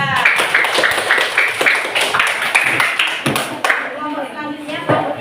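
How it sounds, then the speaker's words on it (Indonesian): A classroom group claps for group 2 after their presentation, a brisk burst of hand claps close by, with voices chattering over and around it. "Beri tepuk tangan untuk kelompok 2."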